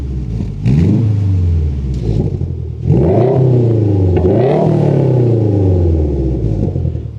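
Loud, nearby exhaust rumble from a Subaru WRX fitted with new headers, valves off, revving up in several sweeping pulls over a deep, lumpy idle, with no voices.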